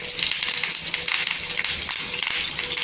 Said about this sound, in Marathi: इथे कढीपत्त्याची पानं घ्यायची, इथे तेलात टाकायची।